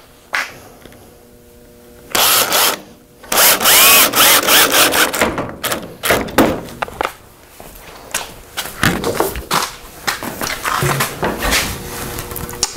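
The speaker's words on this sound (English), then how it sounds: "So I got my cordless drill that I'll finish drilling or installing the screws in with." Cordless drill driving screws into pallet wood for a rustic shelf, loud bursts of motor whine and screw grinding start and stop repeatedly, close up, with knocks and handling noises between runs and no talking.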